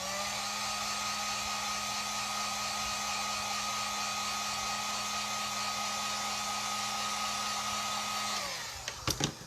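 A hair dryer blowing on a homemade face mask holder craft, a loud, steady close-up whir running for about eight and a half seconds before switching off with a few clicks.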